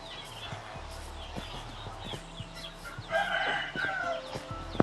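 Minecraft chickens cluck in short bursts amid quiet game ambience, growing a bit louder toward the end, with a brief sharp click at the close.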